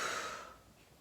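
A single breathy exhale through the mouth during a stretch-and-relax class, fairly close and soft, fading out within a second.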